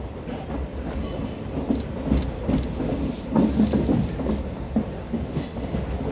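A DEMU passenger train runs on rails on the Ganga Sutlej line approaching Lohian Khas Junction, giving a steady low rumble of wheels on track with faint rhythmic clatter throughout, no voices.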